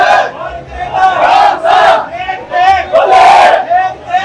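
A crowd roars Sikh jaikara chants at a nagar kirtan as a Panj Takht rail pilgrimage returns from Amritsar, with several loud, rhythmic collective shouts that rise and break, each followed by a brief lull.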